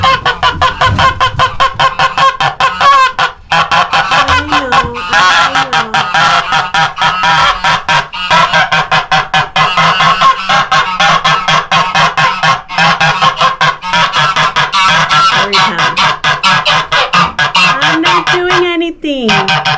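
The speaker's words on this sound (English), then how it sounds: "my mama goose hiding inside my chicken coop" Mother goose inside a chicken coop honking loudly and repeatedly in rapid, rhythmic bursts at close range, with a few short breaks in the run and no talking.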